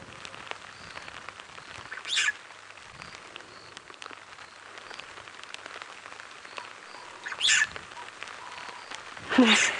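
Starling calling in the rain at dawn on a safari reserve: three brief bright call bursts, one near two seconds, one near seven and a half, a louder one at the end, over steady soft rain patter.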